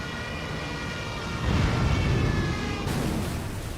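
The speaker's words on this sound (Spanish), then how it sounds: "los Stukas, los bombarderos alemanes, retoman sus vuelos en picado y aterrorizan a las tropas aliadas con el sonido de sus sirenas" German Stuka dive bombers from 1940, heard as a loud, sustained siren wail with a rising roar and rumble that swells midway before holding steady to the end.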